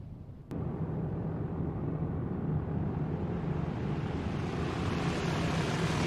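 A propeller-driven aircraft drones steadily as it circles an airfield before landing, its engine noise rising and holding loud throughout after a brief click near the start.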